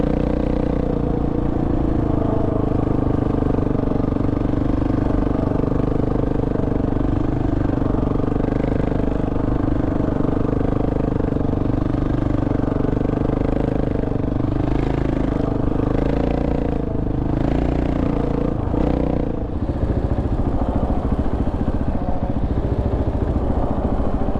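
Motorcycle engine running steadily throughout while a rider practises S-turns, with the throttle rising and falling in gentle, repeated swells; a continuous close, loud drone with some clatter, no talk.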